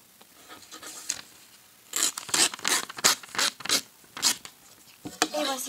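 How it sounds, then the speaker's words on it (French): Paper being cut with the edge of a ruler instead of scissors while making a paper heart: a run of close, dry scraping rips in quick bursts, with pauses between strokes. "moi je vais utiliser ma latte à la place des ciseaux"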